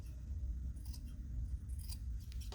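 Scissors snip away the itchy glitter fabric on a homemade Boo costume from Monsters, Inc., several quiet, quick cuts spread over a low background rumble.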